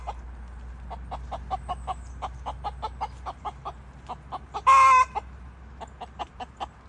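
A free-range flock of chickens clucks nearby in a steady rhythmic series of short calls, with one louder squawk partway through and no talk.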